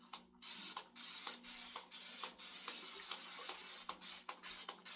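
Repeated quick hissing sprays from a continuous spray bottle, a rapid series of short bursts with brief pauses between them, close and fairly quiet, over a faint background hum.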